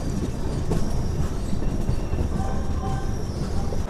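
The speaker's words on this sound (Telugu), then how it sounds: "సో మన ట్రైన్ వచ్చేసి అనకాపల్లి నుంచి అయితే బయలుదేరిపోయింది" The Tatanagar–Ernakulam Express pulls away from Anakapalli station, heard from on board as a loud, continuous rumble of wheels and carriages with faint rail squeals.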